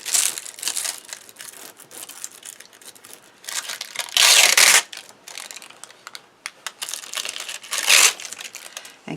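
Foil sheets crumpled and crinkled by hand for a distressed foil card technique, close and loud in bursts of rustling with short pauses between.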